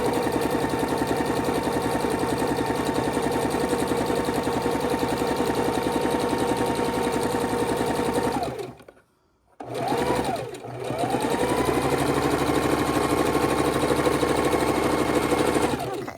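A sewing machine stitches quilt blocks for a king size quilt, a steady close whirring hum that stops briefly partway through, then spins back up and continues running.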